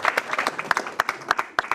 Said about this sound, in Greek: Θέλω το πιο ζεστό χειροκρότημα έτσι για να τον τονώσουμε λίγο.